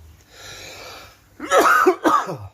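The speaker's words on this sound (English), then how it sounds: "Oh dear me, coughing fit now." A person coughs harshly twice in quick succession after a short raspy throat sound, close and loud, with no talking.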